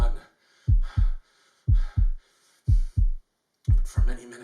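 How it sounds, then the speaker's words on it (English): A deep, muffled heartbeat thumps in paired beats, lub-dub repeated four times at an even pace, loud and close, used as a dramatic sound effect in a reading of a horror story. "the heart beat on with a muffled sound"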